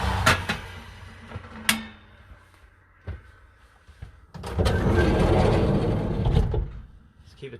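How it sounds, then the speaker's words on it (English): Road traffic passes outside an open door, with a broad whooshing swell midway, scattered clicks and knocks beforehand, and a gradual fade afterward. "The traffic's a bit noisy when it goes past"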